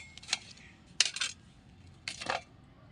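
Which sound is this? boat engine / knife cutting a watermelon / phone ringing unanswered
knife cutting a watermelon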